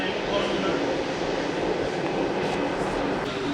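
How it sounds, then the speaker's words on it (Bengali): A Kolkata Metro train rolls into Noapara station, its close, loud broadband rumble and rushing noise steady throughout, with brief higher squeals now and then. "এখন কিন্তু আমাদের এই মেট্রোটা ঢুকছে নোয়াপাড়ায়"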